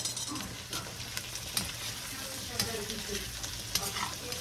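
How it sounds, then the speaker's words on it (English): Pork chops frying in grease while potatoes are stirred nearby, a steady quiet sizzle broken by occasional utensil clicks and scrapes, close and without talk. "we got the pork chops frying. They frying up. We just put the pork chops in the grease"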